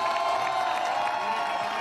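Crowd noise from a Treviso audience, cheering and shouting mixed with scattered clapping, sustained at a steady level with voices blending into the roar.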